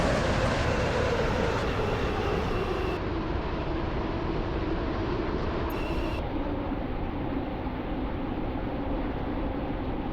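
Train rumbling along on its approach to Water Newton station in the Stepford game, a steady, loud, broadband roll of wheels and motors that continues without a break.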